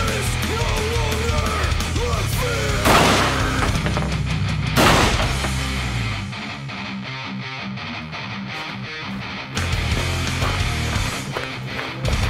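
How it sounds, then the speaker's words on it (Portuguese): Franchi Intensity shotgun firing slugs at a 25-metre range, two loud sharp blasts about two seconds apart with ringing tails, then a lower rumbling stretch and a further abrupt burst, with no voices. "Agora tiro de balote"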